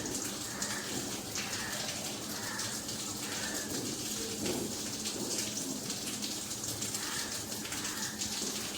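Milk is swished around inside a mixer jar to rinse it, making a continuous, close, watery sloshing and splashing that stays at an even level throughout.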